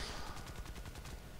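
Rapid, steady aircraft machine gun fire from a plane in War Thunder, a close, continuous rattling burst running throughout.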